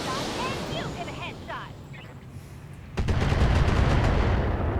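Weapon fire from a mech in the BattleTech game, a PPC and LRM missile volley, opens a loud rumbling barrage of booms and rushing roar partway through. Before it there is quieter game ambience and a few faint chirps.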